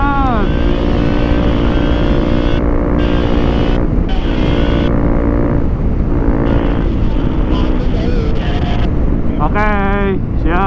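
A Honda CRF 250 Rally motorcycle engine revs and accelerates on a group touring ride in Bandung, rising in bursts under steady wind buffeting while riders talk over it throughout.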